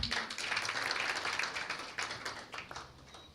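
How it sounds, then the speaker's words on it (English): Clapping from an audience welcoming a member of parliament at a gender-based violence awareness event, a dense patter of hands that stays steady before thinning toward the end. "Can we clap for him?"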